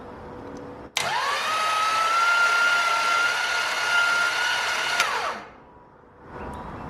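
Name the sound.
starter cranking 1948 Ford hot rod engine without plugs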